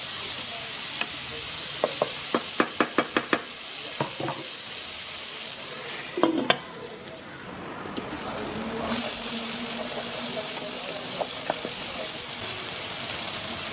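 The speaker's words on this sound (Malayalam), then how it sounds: "തക്കാളി നന്നായിട്ട് ഒന്ന് ഇളക്കി യോജിപ്പിക്കുക." Chopped tomatoes being stirred into a frying brinjal masala in a pan, giving a run of quick scraping spoon strokes over a steady close sizzle, with a few clinks, with no talking.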